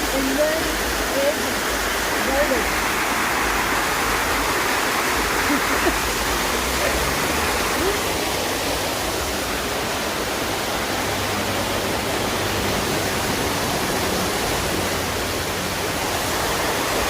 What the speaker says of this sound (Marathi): अशा प्रकारे आम्ही ताम्हिणी घाटाच्या धबधब्यामध्ये आलो आहे.